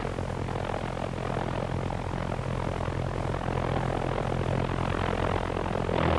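V-1 flying bomb pulse-jet engine running at partial power on its launch ramp, a steady loud rumbling drone with a throbbing low buzz that holds constant throughout.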